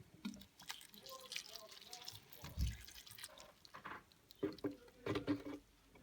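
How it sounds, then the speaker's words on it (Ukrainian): Water trickles and splashes into an orchid pot in short pours, with soft dripping and light handling noises between, close by. "зараз ми цю дольємо води"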